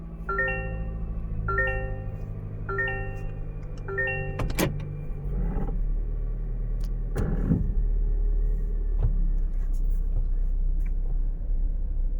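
A 2024 Toyota Corolla Cross with a fault that stops it reversing, shifted into reverse: four repeated cabin warning chimes open the clip, then a steady low engine rumble with a few sharp clicks, heard close from inside.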